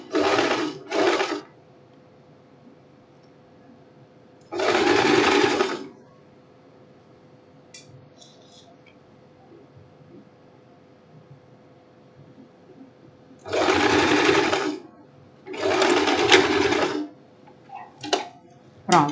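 A sewing machine stitches a seam on a blouse in short loud bursts separated by quiet pauses, several runs of rapid mechanical clatter close by.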